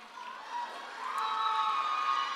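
Audience at a middle school awards ceremony cheering and whooping as names are called, with children's shouts rising into a sustained, fairly loud crowd roar that swells after the first second.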